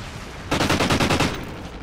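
A rapid burst of automatic gunfire in the video game Warhawk, about a dozen loud, evenly spaced shots in just under a second, then abrupt quiet.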